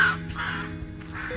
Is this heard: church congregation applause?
no